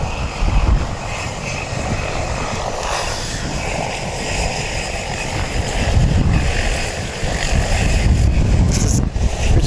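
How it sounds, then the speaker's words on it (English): A seven-year-old Airbus A320, registration ZK-OXB, preparing to depart Wellington for Auckland, gives off a steady, broad engine roar that holds throughout, swelling slightly toward the end, with no voices. "It's a Wellington flight, Wellington to Auckland flight, about to depart"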